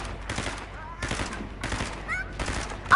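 Bursts of rapid automatic gunfire in a Fortnite battle royale match come in three or four separate volleys about half a second apart, moderately loud, with players talking between and over them.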